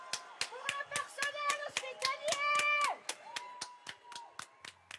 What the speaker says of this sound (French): Dans toute la France, lors du premier confinement, des salves d'applaudissements.